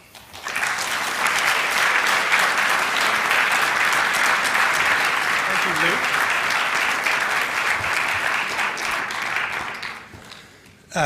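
An audience breaks into sustained, loud applause welcoming economics author Nicholas Wapshott to a lecture at Hillsdale, the dense clapping holding steady for about ten seconds before tapering off.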